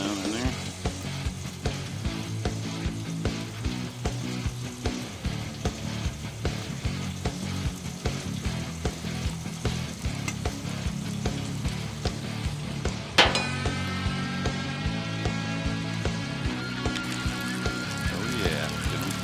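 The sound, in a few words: jalapenos frying on a Blackstone griddle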